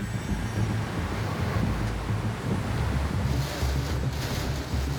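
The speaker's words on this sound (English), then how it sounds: "Yeah, you can feel that gust. You know, that has to be up to 100 k's an hour now." Strong wind gusts from Cyclone Debbie battering the coast near Airlie Beach and the Whitsunday Islands, a continuous loud roaring rush with heavy buffeting across the microphone.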